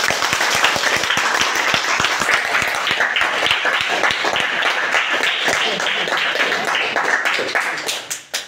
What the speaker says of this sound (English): give a round of applause and thank you